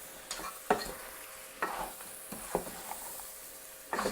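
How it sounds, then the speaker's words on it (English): Garlic being stirred into sizzling meat in a pan for khatta meat, with a few scraping stir strokes over a steady low frying hiss, close and fairly quiet, no talking. "I'm going to add the the garlic. And we're going to mix it all together"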